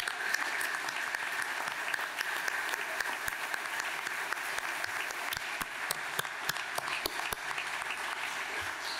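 An audience at the 2021 Grand Prix Desjardins de la culture awards in Lanaudière applauds the nominated finalists. The soft, somewhat distant clapping continues steadily, with a few sharper claps standing out and no speech over it.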